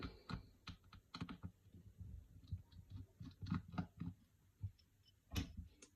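Small screws come out of the motherboard of a Crosscall Core X4 phone during disassembly: a close, quiet series of light clicks and ticks from a small tool, with no speech.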